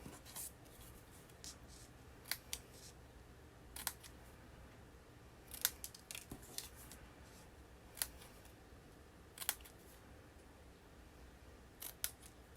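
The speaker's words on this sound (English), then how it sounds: "I'm going to cut up the middle and then cut from each end to make a banner" Scissors snip through stamped craft paper to cut a banner shape, a scattering of brief crisp cuts spaced a second or two apart over a quiet room background, with no talking.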